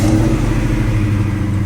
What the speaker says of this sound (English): let's turn on this car right now and see what happens